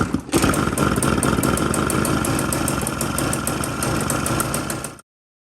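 A 1987 KTM 250 GS motorcycle, freshly rebuilt with new bearings and piston rings, catches after a brief crank and settles into a loud, steady idle with a rapid two-stroke patter before cutting off abruptly.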